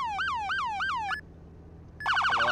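A video game police siren in yelp mode sweeps rapidly up and down in three quick repeated cycles, loud and close, then breaks off into a brief silence before the wail starts again.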